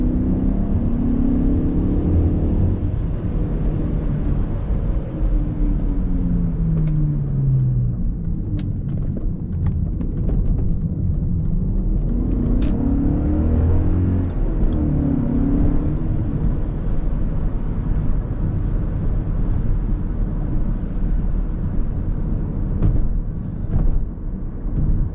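A 2000 BMW E39 M5 being driven on the road in Goddard, Kansas, its engine giving a steady, loud low rumble with rising and falling tones as it accelerates and shifts, continuous throughout and with no talking.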